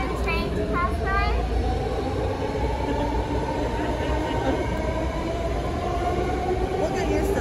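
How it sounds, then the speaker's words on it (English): A train rumbles steadily past an outdoor tour stop, a loud continuous low roar with rail squeal and tonal screeches that fill the whole stretch, while a voice speaks faintly underneath. "I'm going to wait for the train to pass by."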